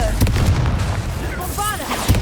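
A Confringo spell in Hogwarts Legacy booms out in a loud, close blast with a rumbling tail, under busy game sound and a brief voice.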